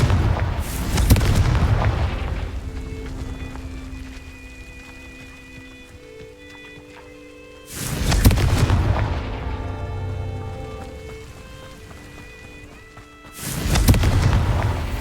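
Three loud, deep Confringo spell explosions from the Hogwarts Legacy video game, each a heavy boom with a long rumbling decay, spaced several seconds apart.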